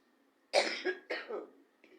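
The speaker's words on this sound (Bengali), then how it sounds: "কাশি হয়েছে" Two harsh coughs in close succession, fairly loud and near, followed by a short faint throaty sound.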